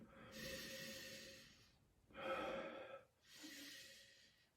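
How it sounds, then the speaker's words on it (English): Three long, breathy sniffs of wine in a glass in a row, close to the listener, each a drawn-in rush of air with short pauses between. "Let's take a sniff"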